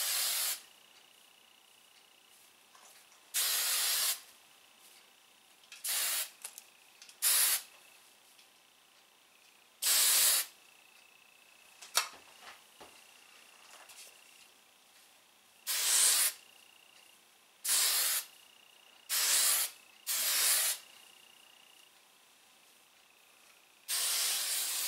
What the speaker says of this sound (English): Then I spray the heck out of it. I probably use too much hairspray.